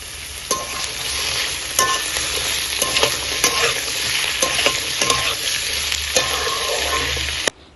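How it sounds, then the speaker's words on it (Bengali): Potatoes lightly frying in mustard oil with panch phoron and two dried red chillies, a steady close sizzle broken by repeated scraping stirs of a spatula in the pan, with no talk. "এবার সবার প্রথমে দিয়ে দেব আলুগুলো দিয়ে হালকা করে ভেজে নেব।"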